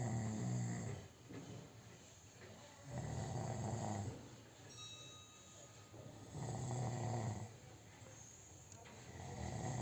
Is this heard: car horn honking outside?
no